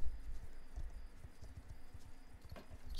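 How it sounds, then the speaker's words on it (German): Horse hooves clip-clop in a steady walking rhythm in the Star Stable video game, with a soft snort near the end, close and moderately loud with no talking. "Ich höre, wie mein Pferd schnaubt."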